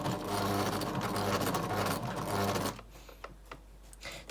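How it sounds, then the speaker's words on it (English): A sewing machine stitches an invisible zip in a steady, fast run for nearly three seconds, then stops, leaving a few faint clicks and handling taps. "So I'm going to go ahead and sew it."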